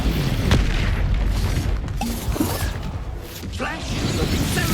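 Expulso blasting spell cast in the Hogwarts Legacy video game, a loud low boom with crackling debris and whooshes amid continuous dense combat noise, several impacts over a few seconds.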